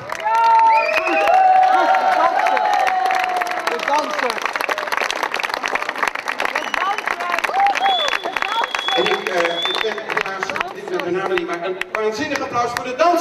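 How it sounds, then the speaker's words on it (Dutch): Applause and cheering from a live outdoor concert crowd for dancers performing with a band at the Rijnkade in Arnhem, a dense steady roar of clapping with a loud host voice speaking over it. "Een waanzinnig applaus voor de dansers."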